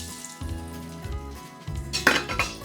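Chopped coconut pieces sizzle as they fry in hot ghee in a pan for kumbalanga payasam, a soft steady crackle broken by a few clinks and scrapes of a spoon stirring against the pan.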